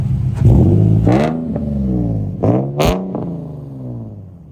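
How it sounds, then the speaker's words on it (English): A Corvette leaving a night car meet revs its engine in several loud surges and shifts, rising and falling pitch over a few seconds, close to the listener with no voices. "Corvette rolling out."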